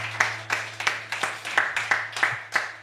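Rhythmic hand clapping from a small group, about eight evenly spaced claps at a brisk, steady beat over a low hum.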